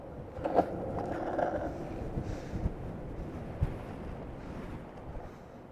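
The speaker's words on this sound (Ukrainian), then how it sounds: "Вітер просто мене зупиняє, я не можу їхати." Strong wind gusting against a rider out on the road, buffeting the microphone with a low, rumbling roar that swells and eases in uneven pulses, moderately loud, with no voices.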